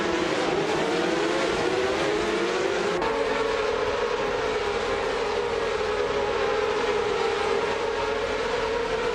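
A 1994 Ferrari 355 Challenge race car in a racing video game, its engine note loud and sustained, rising in pitch through the revs and then shifting down to a steadier drone after a gear change, with no voices.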